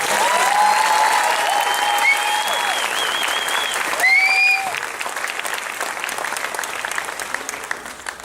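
Another round of applause for a fifth grade honor choir fills the hall, a loud, dense crackle of many hands that stays strong, then eases a little, while cheering and whoops ring out over it early on.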